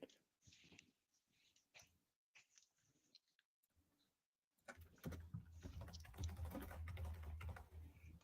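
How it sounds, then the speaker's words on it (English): A clacky computer keyboard is typed on in quick, irregular bursts of clicks, close but quiet, with brief pauses before a denser, more rapid stretch of keystrokes. "Ah, yes, the aggressive typing continues."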